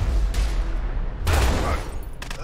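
Loud gunshots from the video game A Way Out, several sharp bursts over a low rumbling bed, with a short cluster near the end, no speech.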